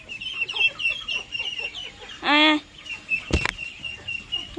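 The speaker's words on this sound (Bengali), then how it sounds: "এটার মুরগির ঘর" Chickens cluck and chatter steadily in a coop where ducks and ducklings are also kept, with one louder squawk partway through and a short sharp knock near the end.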